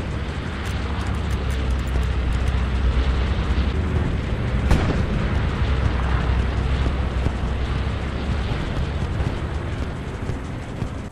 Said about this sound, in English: Sending bombing run at Hamlet.